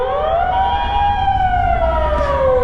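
An ambulance siren wails through Tokyo street traffic, its rising and falling tone loud and close as it passes, with road noise rumbling underneath.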